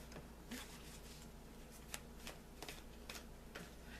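Cards riffle and flutter in a series of short bursts, close and fairly quiet, with soft ticks between shuffles.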